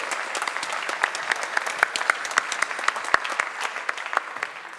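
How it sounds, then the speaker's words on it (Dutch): A modest audience claps for a quiz contestant on a local talk show, distinct individual claps audible within a thin, steady round of applause that tapers off near the end. "Kandidaat 2, geef er een groot applaus"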